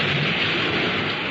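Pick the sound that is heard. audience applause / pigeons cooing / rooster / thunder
thunder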